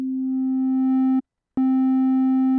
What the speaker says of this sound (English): So a sine wave is a pure tone.